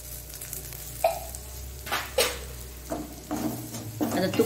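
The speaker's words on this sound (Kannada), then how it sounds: "ಅದು ತುಪ್ಪದಲ್ಲಿಯೇ ಆ ಪೌಡರ್ಗಳು ಸ್ವಲ್ಪ ಫ್ರೈ ಆಗಬೇಕು" Cumin and other spice powders sizzle in hot ghee for a chicken karipatta dish, a steady frying hiss punctuated by several sharp stirring scrapes.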